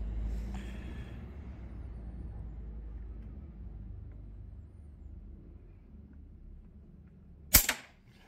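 A single sharp crack of a Hatsan Tac Boss PCP air rifle shot near the end, after several seconds of low steady background rumble.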